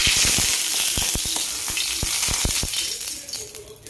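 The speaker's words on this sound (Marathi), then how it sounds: "आता हे अशा वड्या सोडून घेते तव्यावरती छानपैकी आता तळून घ्यायच्या असतात थोड्याशा तेलामध्ये" Coriander vadis fry in a little oil on a hot tawa, giving a dense close sizzle broken by sharp spatters and clicks that thin out and soften toward the end.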